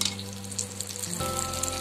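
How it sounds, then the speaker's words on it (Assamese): Beaten egg omelette seasoned with salt and turmeric fries in oil in a kerahi, giving a close, steady crackling sizzle over a low hum, with no voices. "এয়া মই অমলেট বনাই লৈছো"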